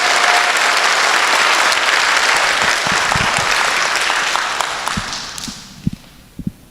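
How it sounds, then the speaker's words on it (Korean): Sustained audience applause at a book talk in New York, a dense crowd of hands clapping loudly and steadily before thinning out to a few final scattered claps. "박수가 한번 나와야 되는데"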